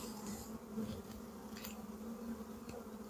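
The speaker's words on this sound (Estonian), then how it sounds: "Et siin on jah veel vanu mesilasi" A swarm of honeybees, old winter bees still among them, drones in an opened beehive at spring inspection, a close, even buzz with a steady pitched hum and faint ticks over it.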